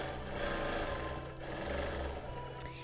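Sewing machine free-motion quilting an edge-to-edge quilt, a steady fast mechanical hum with rapid needle pulses running continuously and close, with no talk over it.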